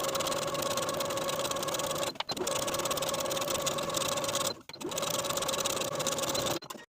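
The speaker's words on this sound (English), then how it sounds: "I'm going to edge stitch close to those finishing stitches all the way around the bottom of the garment" A sewing machine edge stitches along the bottom hem of a blouse in three long bursts of steady, rapid whirring, each separated by a brief pause. The machine sounds close and clear, with no talk.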